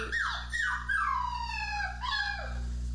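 A puppy whimpers and whines in a series of high, drawn-out, falling cries, close and fairly loud over a steady low hum, with no talking.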